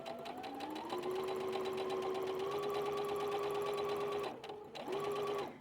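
A sewing machine stitches the long edge of a welt pocket with an exposed zipper, running in a fast, steady mechanical whir nearby, halting briefly near the end before starting up again.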